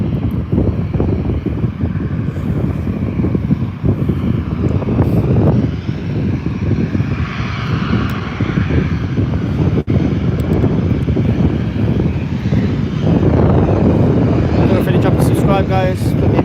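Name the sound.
Boeing 737 jet aircraft at Birmingham airport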